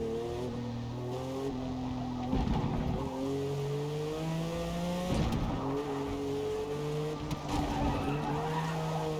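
In the Forza racing game, a race car laps the Nürburgring with its engine rising and falling through the gears, and the tires squeal in bursts through several corners, close and steady under the engine.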